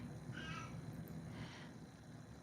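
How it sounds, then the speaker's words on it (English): A house cat cries with a couple of drawn-out meows, fairly close and clear against a quiet indoor background, with no talking. "My kitty's crying."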